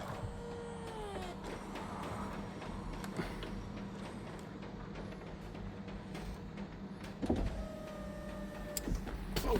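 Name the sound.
hydraulic pump of Porsche 996 convertible roof operating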